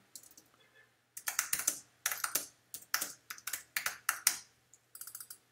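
Keys clatter on a computer keyboard in quick bursts of keystrokes separated by short pauses. The typing is close and clear, with no voices over it.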